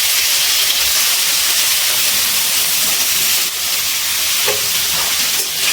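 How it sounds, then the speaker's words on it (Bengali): Marinated chicken fries in refined oil on a high gas flame, giving a loud, steady, close sizzling hiss with occasional faint stirring clicks throughout. "এবার তেলের মধ্যে দিয়ে দিচ্ছি ম্যারিনেট করা চিকেন।"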